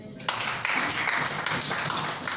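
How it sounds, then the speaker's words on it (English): A church congregation claps along during a Sunday sermon, with rhythmic hand claps under a faint hum of voices in a reverberant hall. "Clap your hands for me."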